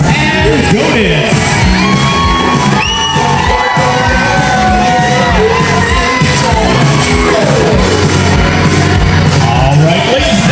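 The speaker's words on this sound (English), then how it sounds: "let's keep that applause going for the Flower Girls, Aubrey and Bryce" Wedding guests at an outdoor reception in Look Park, Florence, Massachusetts, applauding, cheering and whooping loudly for the flower girls, a dense continuous crowd roar with children's shouts and voices throughout.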